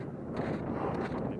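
Wind sweeps across an open mountain valley trail near Asiago, a faint, steady broadband rush buffeting the microphone for a brief moment.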